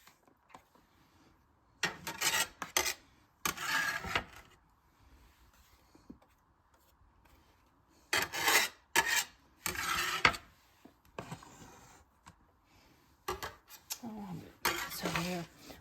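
Sushi rice being mixed with imitation crab and boom boom sauce in a bowl, giving bursts of close, wet scraping and rubbing strokes separated by quiet pauses.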